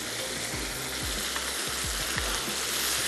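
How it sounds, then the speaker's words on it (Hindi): Spices such as turmeric, salt and coriander powder sizzle steadily with meat and potatoes in a pot, a dense continuous frying hiss with occasional stirring scrapes, close and fairly loud, no talk. "थोड़ा सा भूनते हैं मसालों के साथ"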